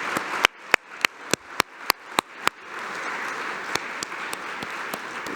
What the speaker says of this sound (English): Could we get just one more round of applause for Lori Kramer,